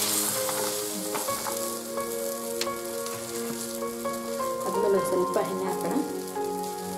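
Puran poli (holige) frying in oil on a pan, a steady close sizzle with crackling bursts and spatters throughout, over faint kitchen background and a low continuous hum.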